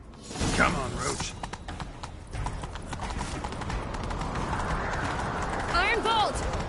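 Rapid hoofbeats of a galloping horse in the game Witcher 3 pound steadily and close, with a brief whinny near the start and another toward the end.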